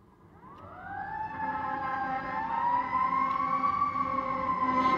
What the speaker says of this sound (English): That's like the third siren I've fucking heard go by me.